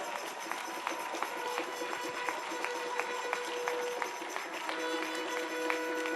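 A church congregation gives applause at a leaders' camp service, a steady wash of clapping at moderate distance with sustained musical tones ringing underneath.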